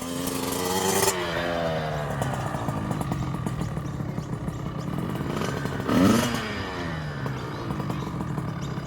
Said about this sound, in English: This bike's not going to last long if it only gets ridden in first gear.